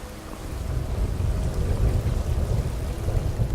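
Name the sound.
rain in the video game Skyrim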